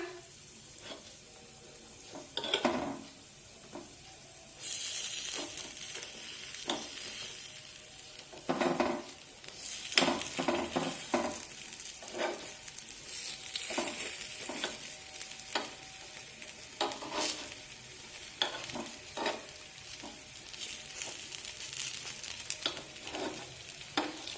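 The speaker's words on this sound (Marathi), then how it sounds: "आणि हे आप्पे पलटून घेऊया" Rice flour appe fry in an appe pan with a continuous sizzle while a utensil scrapes and clinks as they are turned, giving a series of close scraping bursts with no talking.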